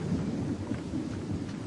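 A thunderstorm rumbles continuously, with low thunder rolling under a steady wash of heavy rain, loud and close and with no voices.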